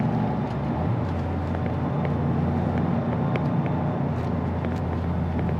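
A Toyota GR Yaris on a race track, its engine drawing a steady, continuous drone under gradual acceleration, mixed with constant road and cabin rumble and no clear shifts or gaps.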